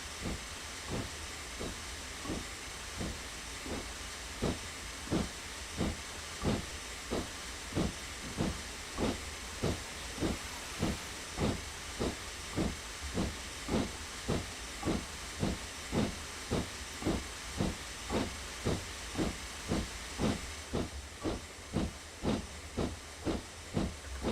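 Train Simulator Classic's Darjeeling Railway steam locomotive chuffs in a steady, evenly spaced rhythm of sharp exhaust beats over a constant hiss of steam, loud and close, holding its pace for the whole stretch with no voices.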